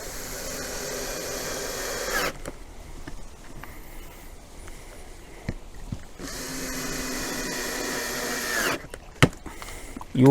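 A power drill drives screws to fasten a hinge jig onto a wardrobe carcass, two close bursts of whirring motor separated by a quiet pause with small knocks and handling clicks.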